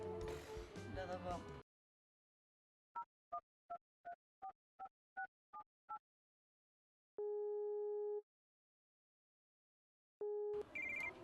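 A mobile phone call goes unanswered: a short melodic ring of eight evenly spaced double beeps, then a long steady tone and the start of another, with talk before and after.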